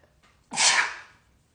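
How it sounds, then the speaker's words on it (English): A single sharp sneeze bursts out close by after a brief intake of breath, then quickly fades to quiet. "look, I'm about to sneeze now."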